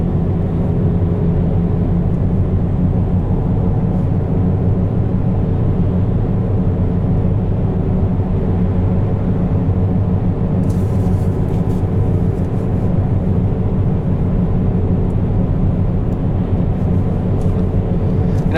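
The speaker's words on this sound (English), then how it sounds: "If you ever wondered how loud studded tires are, now you know." Loud, steady road roar inside a moving 2016 Volvo S60 Cross Country on studded tires, a constant low rumble and hiss from the tires with no talking.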